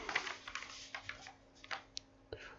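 Arduino code is typed on a computer keyboard, with quiet, irregular key clicks close by in short bursts and no talking.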